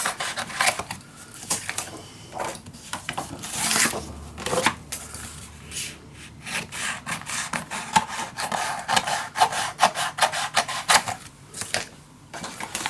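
Paper trimmed down for a handmade mini album, with a long series of crisp, irregular cutting and rustling snips and scrapes close by, and no speech.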